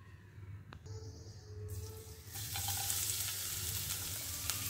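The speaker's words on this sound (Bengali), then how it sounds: "রসুন আর আদা কুচিটা ভাজা হয়ে এসছে" Chopped garlic and ginger frying in a little white oil in a wok, a steady soft sizzle that swells louder and brighter partway through, with light stirring scrapes and no voices.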